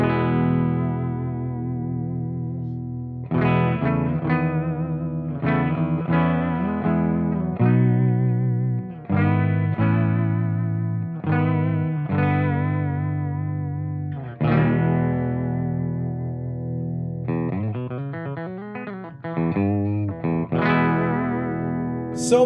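A freshly set-up Squier Classic Vibe '70s Jaguar electric guitar with new strings, played through an effects unit. It plays a loud, shimmering, slightly chorused line of ringing chords and picked notes with brief pauses between phrases.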